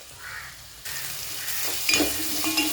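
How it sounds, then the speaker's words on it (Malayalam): Ginger garlic paste and salt hit hot oil for a mackerel chilli curry: quiet at first, then a sudden louder sizzle that holds steady, with a couple of light utensil clinks near the end. "നമ്മൾ കുറച്ച് ഇഞ്ചി വെളുത്തുള്ളി പേസ്റ്റ് ചേർത്ത് കൊടുക്കുന്നുണ്ട്."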